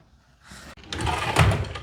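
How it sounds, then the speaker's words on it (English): A door opens with a short knock and latch click, then a brief scrape and swell of movement as it swings, fairly close and moderately loud, with no talking. "I'm about to open the door."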